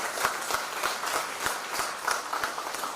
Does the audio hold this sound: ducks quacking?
no